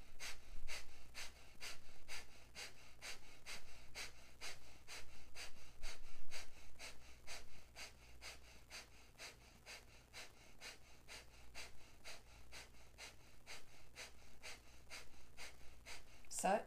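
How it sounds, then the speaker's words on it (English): Breath of fire yoga breathing from a kriya class: rapid, rhythmic, forceful nasal exhalations, roughly two per second, keep a steady beat for the whole stretch, close and clear. "Breath of fire."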